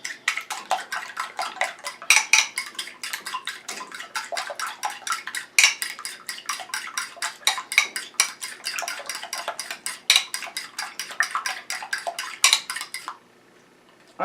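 A fork beating two eggs in a bowl, rapid rhythmic clinking of metal against the bowl in steady bursts, close and alone, stopping abruptly near the end.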